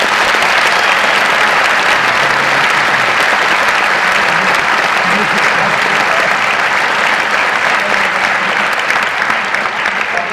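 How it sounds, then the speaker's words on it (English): Outdoor crowd at a Wreaths Across America stop at Monty Tech gives sustained, loud applause honoring veterans' families, dense continuous clapping that holds steady for about ten seconds. "So let's give them a great round of applause."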